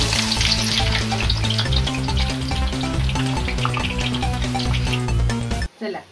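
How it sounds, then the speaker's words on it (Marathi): Sliced onions fry in hot oil in a kadai for barista, a loud, steady sizzle with occasional stirring scrapes and pan clinks, then a sudden cut and a short quieter stretch of sizzling at the end. "कढईमध्ये तेल तापायला ठेवलंय, हा आपला कांदा आपण त्यात फ्राय करायचा"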